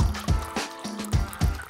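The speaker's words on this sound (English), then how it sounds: "Then pour in your favorite drink." A favorite drink, about two liters, pours from a pitcher into a hollowed-out melon fitted with a tap near the bottom, making steady liquid filling sounds with a repeating glugging pulse, close and moderately loud, with no talk.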